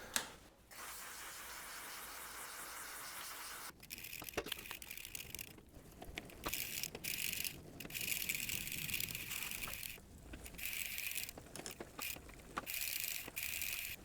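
A mid-drive e-bike is pedalled forward while up in a bike stand, giving quiet mechanical clicking and ticking of the drivetrain in uneven bursts with light scraping, close and faint.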